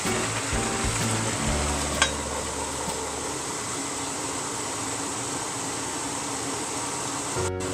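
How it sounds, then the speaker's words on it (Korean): Tomato, beef, carrot and potato stew simmering under a lid over low heat, giving a steady, even hiss with one faint tick partway through and no voices. "뚜껑 덮고 약불에서 20분 정도 뭉근하게 끓여주세요"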